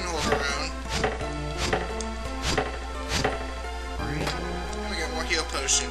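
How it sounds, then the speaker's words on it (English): Tree chopping in the Mystic Quest video game: a series of sharp, evenly spaced synthesized chop hits, about one per second, played over a constant low game music drone. "we're chopping down more trees!"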